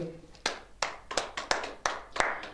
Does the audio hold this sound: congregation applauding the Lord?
yes